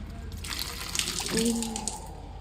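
Apple fizz drink pouring and splashing close by, a steady gush with a brief ringing tone as it spills over.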